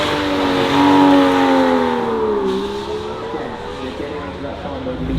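Flat-plane-crank twin-turbo hybrid V8 car accelerating at the Goodwood Festival of Speed, a loud close engine note climbing in pitch, dipping, then pulling away and fading slightly.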